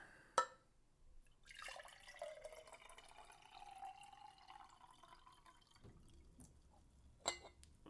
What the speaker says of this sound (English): Kind of crisp water sounds.